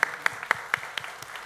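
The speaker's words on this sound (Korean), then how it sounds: "성도 여러분 큰 박수로 환영해 주시기 바랍니다" A church congregation claps to welcome a flag bearer at an evangelism rally, a few sharp, separate claps landing roughly every quarter second, moderately loud against a faint room wash.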